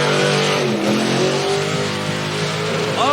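An ice cream truck does a burnout at a skids event: a loud, sustained engine roar that revs and surges continuously, with a tire squeal rising near the end.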